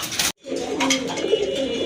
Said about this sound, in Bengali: এক জোড়া গড়া কবুতর খুবই সুন্দর ব্ল্যাক অ্যান্ড হোয়াইট কালারের